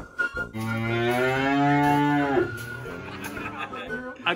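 A Jersey dairy cow on a Wisconsin dairy farm gives one long, loud, close moo lasting about two seconds, with a rising, harmonic-rich tone, followed by quieter barn noise.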